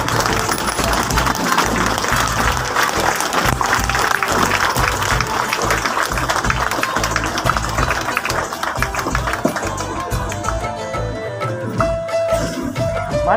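An audience claps for children at a 2025 community cultural programme in Mumbai: dense, sustained applause that fills the whole stretch at steady loudness, with some other sounds mixed in toward the end.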